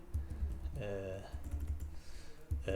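Rapid keyboard typing, close and fairly quiet, clicks in quick bursts while a voice talks over it.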